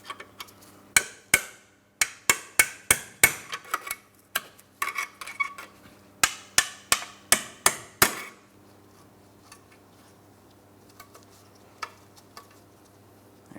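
A series of sharp metallic hammer strikes drives out a rivet on a 2004-2008 Pontiac Grand Prix front control arm ball joint, about a dozen quick, loud blows in uneven rhythm, then quiet workshop sounds.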